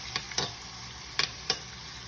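Steak basting in rosemary butter in a hot pan gives a steady, close sizzle with a few sharp spoon clicks and spatters standing out, and nobody speaks.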